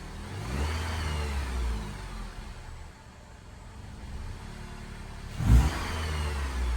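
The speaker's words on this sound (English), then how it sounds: "Give it a wee rev." Budget manual car engine revving up while stationary with the clutch and brake held, a steady mid-pitched idle swelling into a short, louder rev near the end, close by and without talk.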